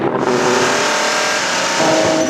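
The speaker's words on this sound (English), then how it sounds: "And there's the Audi going through." Audi prototype race car at the Spa-Francorchamps 6 Hours endurance race, a loud continuous engine roar sweeping past at high speed for a couple of seconds, with no voices over it.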